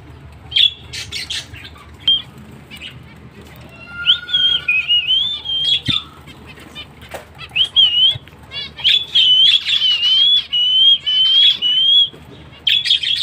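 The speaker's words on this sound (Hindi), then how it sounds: "ये देखिए मेरी सीटी की आवाज़ से सारी फिंचेस बोलने लगती हैं फौरन ही" Pet finches answer a person's whistling with a lively run of chirps and squawks, close and clear, and the calls grow busier and more continuous over time.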